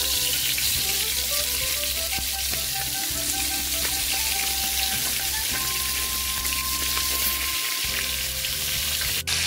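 A fish head coated in turmeric, chili and salt sizzles steadily in hot oil, a dense, loud crackle and hiss that keeps on without a break, with no voices heard.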